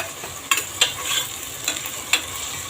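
Ginger and garlic sautéing in a pan for Samba rava kichadi, with a steady faint sizzle and a handful of sharp clicks as a spatula strikes the pan while stirring.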